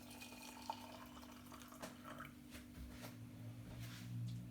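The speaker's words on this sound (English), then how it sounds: "Then I pour some hot water in it like this." Hot water poured into a cup over a few cloves, a soft steady trickle and drip close by with faint liquid splashes, quiet and continuous with no talking.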